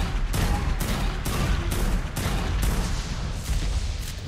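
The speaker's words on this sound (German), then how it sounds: "ich hatte 1500 Schuss mit für die Minigun" Minigun fire in the ARK video game during a boss fight against a dragon: loud, sustained bursts of rapid shots broken by brief, regular pauses.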